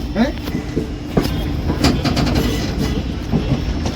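Gomti Sagar Express 16094 pulling into Kanpur Central railway station: a steady, close rolling rumble of coaches with repeated wheel clicks throughout.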